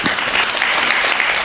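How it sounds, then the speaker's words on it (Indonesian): A mosque congregation at an Islamic lecture applauds the preacher, a dense, even burst of many hands clapping throughout, loud and close with no talk over it. "Tepuk tangan buat Ahilman."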